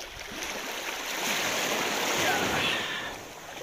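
Water rushes and splashes at a bathing spot in Nasugbu, Batangas, a steady close hiss of flowing water that swells slightly in the middle, with no talk over it.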